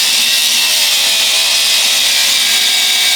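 Grinder cutting off a U-bolt while lowering the suspension of a turbo Ford Falcon, a loud continuous high-pitched metallic whine holding steady throughout.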